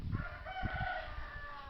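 Chickens cluck close by in a few short, rhythmic bursts, with a drawn-out tonal call like a faint crow running over the middle of the sound.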